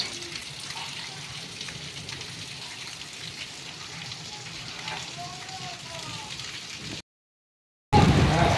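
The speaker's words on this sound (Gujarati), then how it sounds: "તો અત્યારે અંધરાધાર વરસાદ ચાલુ થઈ ગયો છે પવનની સાથે" Heavy rain pours with strong wind in a cyclone-like storm, a steady dense hiss with faint bird or voice traces, cutting to silence briefly before a loud burst resumes near the end.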